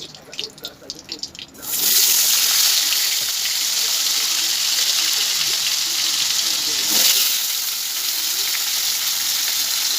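Potatoes dropped into hot oil after fish frying: a few quiet clinks, then a sudden loud burst of sizzling that settles into a steady, dense hiss, with a brief surge partway through.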